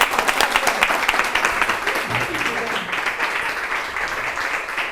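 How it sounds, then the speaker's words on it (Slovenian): An outdoor Sunday gathering under a linden tree breaks into audience clapping, a loud, fast patter of many hands that holds steady, with faint voices beneath it. "A si zaploskamo za konec?"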